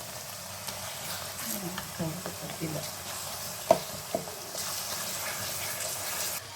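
Methi gojju simmering in oil with jaggery added: a quiet, soft bubbling sizzle with a few spoon knocks and stirring scrapes, one sharper clink in the middle, no talk.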